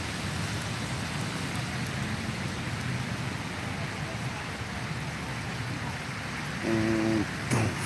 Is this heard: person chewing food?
no